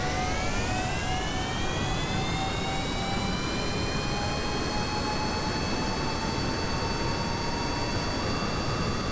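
A light aircraft built in Kerbal Space Program rolls down a runway under a steady, loud jet-like engine roar with a tone that climbs slowly as it gathers speed, continuous throughout with no talk.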